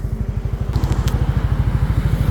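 A motorcycle engine warms up at idle up close, its low, even chugging thumps repeating rapidly and evenly throughout.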